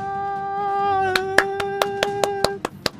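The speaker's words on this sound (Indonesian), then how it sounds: "Tepuk tangan lagi." A single pair of hands claps about ten times in a quick, slightly uneven rhythm, close and crisp, following a sustained tonal sound that fades out.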